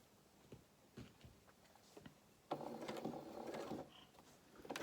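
A sewing machine stitching a seam along fabric under the presser foot: scattered soft clicks and handling first, then a steady, close mechanical whir of stitching for the latter half, with no talking.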